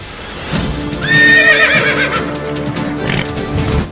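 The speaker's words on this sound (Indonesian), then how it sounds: "Lihat teman, ada seekor kuda." A horse gives a loud, close whinny that rises and wavers for a couple of seconds, with a few softer snorting sounds after it.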